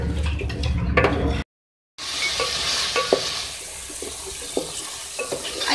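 Four tablespoons of yogurt are whisked into chicken liver frying in a pan, giving a close sizzle under brisk scraping and stirring clicks, with one brief silent break before the bubbling resumes.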